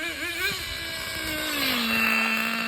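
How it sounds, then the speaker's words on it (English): A small nitro engine on a Thunder Tiger Tomahawk radio-controlled boat runs after tuning and an exhaust leak repair, a thin buzzing whine that wavers in pitch, then settles into a steady, slightly rising drone, close and continuous. "So now that I solved the exhaust leak, I was able to tune the engine."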